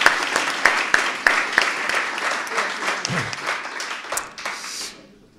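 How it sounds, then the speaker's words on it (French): Audience applause for the speakers at a plenary session on young entrepreneurs, with steady clapping from a crowd that includes some sharp individual claps, a brief voice partway through, and a fade to silence at the end. "on peut encore applaudir tous les intervenants"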